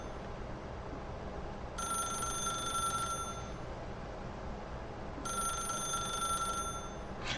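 A telephone in The Stanley Parable video game rings in two separate bursts of shrill, rapid bell trills, each lasting over a second, with a quiet steady background hiss between them and no talking.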